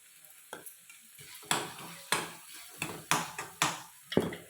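Onion masala with coriander powder being sautéed in a pan for peanut butter masala, with a soft steady sizzle under repeated scraping strokes of a spoon against the pan, close and fairly quiet.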